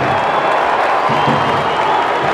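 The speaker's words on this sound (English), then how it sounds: "Home crowd enraptured." Home crowd at a Seattle Sounders versus Philadelphia Union football cup final roars in a sustained, broad wash of cheering and applause, steady and loud across the stadium for a couple of seconds.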